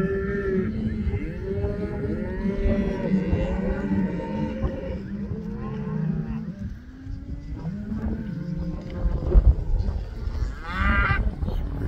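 Cattle with calves being gathered for a sale near Unionville, Missouri, lowing repeatedly, with long overlapping moos from several cows at moderate distance and faint talking underneath.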